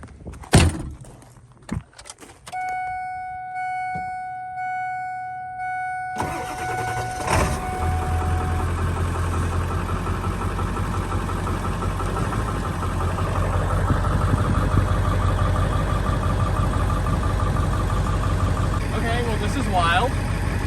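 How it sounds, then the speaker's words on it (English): An old pickup truck's engine cranks and catches after a few door thumps and a repeating warning chime, then settles into a steady, loud idle that rumbles on to the end. "we're gonna get this truck started, we're gonna put it in gear"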